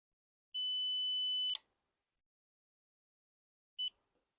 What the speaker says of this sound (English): That second beep tells you that it's now engaged.